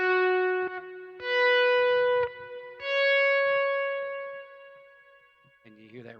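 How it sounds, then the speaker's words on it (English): Sustained electric guitar notes ring out one after another, each decaying slowly with a lingering reverberant tail, followed by a brief strum at the end. "And you hear that reverb in the background."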